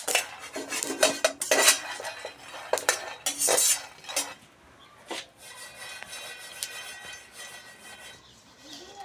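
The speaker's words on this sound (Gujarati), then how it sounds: "હવે આપણે આને નીચે ડીશમાં કાઢી લઈશું" Roasted peanuts poured from a pan into a dish for making peanut chikki, giving close, loud bursts of clattering and rattling against the dish, then softer scraping and settling.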